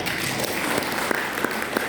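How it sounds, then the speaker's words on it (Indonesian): A congregation claps during an Indonesian Pentecostal morning church service. The applause is a short, continuous wash of many hands with a few sharper claps poking through. "Beri tepuk tangan."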